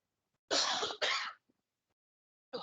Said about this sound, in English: I'm going to have a cough